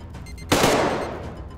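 Gunfire in the video game Arktika.1: a single sharp blast bursts out after a quiet moment, then a rattling tail decays over the next second.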